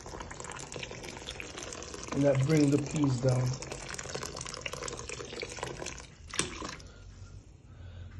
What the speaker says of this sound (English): the peas is coming to a boil